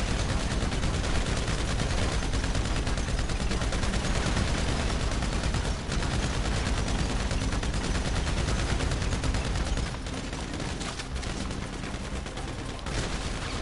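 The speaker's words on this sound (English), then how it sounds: "he's shooting through the ground" Sustained gunfire in GTA 5 Online, dense rapid bursts of automatic weapons crackling nonstop at close range, dropping slightly in intensity toward the end.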